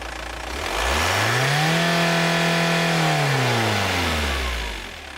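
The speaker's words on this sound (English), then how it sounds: "So that's moving the throttle pedal from idle to full fuel in not more than 1 second." Audi 80 1.9 TDI diesel engine, year 2000, rising from idle to full throttle within about a second, holding a loud steady high rev, then falling back to idle, recorded close with no talking.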